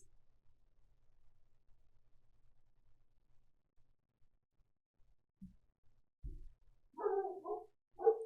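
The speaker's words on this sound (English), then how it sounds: "Sorry for the dogs." A dog barks a few times in the distance after a long quiet stretch, with short yips and a couple of louder woofs near the end.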